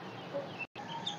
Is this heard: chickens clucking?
yes